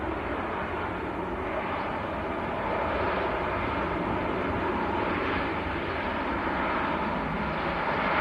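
An Airbus A350-1000 airliner lands at Manchester Airport with engine reverse thrust, a loud, sustained broadband roar that holds steady and swells slightly midway, heard alone without voices.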